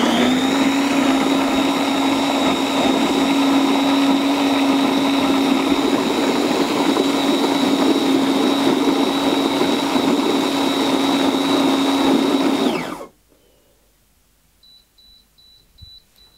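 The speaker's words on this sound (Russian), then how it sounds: "И сейчас мы уже с сыром взбиваем." Erisson MB-001 Balbi blender whirring steadily as it purees broccoli and bean soup with cheese, loud and constant for about thirteen seconds before cutting off abruptly, followed by near silence and a few faint electronic beeps.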